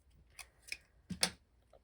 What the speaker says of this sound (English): this magnetic sheet's cut really easy with scissors